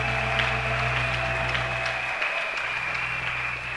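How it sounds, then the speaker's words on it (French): A church congregation at a French and Lingala worship service applauds loudly for the Lord, a continuous crowd clapping with cheers that stays steady and dense throughout. "Acclamons fortement pour le Seigneur Jésus."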